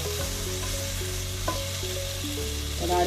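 Cumin-spiced potatoes roasting in masala in a pan give a close, steady sizzle with a few light stirring scrapes and a faint tonal hum underneath.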